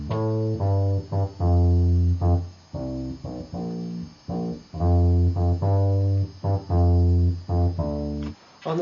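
A Novation Supernova synthesizer plays a bass guitar part: a deep, punchy line of repeated notes and short phrases in a steady groove, loud and alone.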